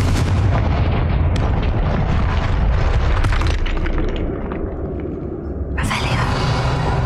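Confringo explosive spell in Hogwarts Legacy, a rapid string of loud booming blasts and crackling bursts, followed by a quieter lull and another sharp high-pitched burst.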